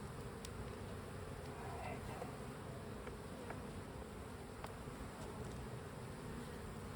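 Honey bees drone steadily in a continuous, dense buzz throughout, close by during an open-hive inspection, with no talking over it.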